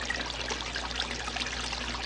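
Water runs steadily through a gold sluice during a cleanup at a Lake Superior gold hunt, making a continuous close hiss and splashing trickle with no pauses.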